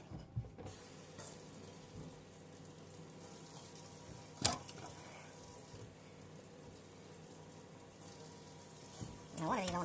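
Tap water running steadily over a bologna chub in a sink, a faint even hiss with a couple of brief splashes and clatters, while people talk quietly nearby.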